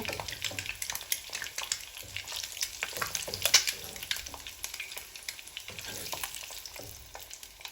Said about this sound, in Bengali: ডিমগুলো আমার লাল লাল করে ভাজা হয়ে গেছে